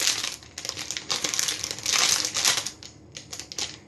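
A plastic packet of icing sugar is snipped open and handled, giving close crinkling and crackling in irregular bursts with short pauses, loud and alone without speech.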